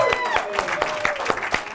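Audience applause at a stand-up comedy club for comedian Robert Punchur, with dense, continuous clapping from a nearby crowd and a host's voice speaking over it.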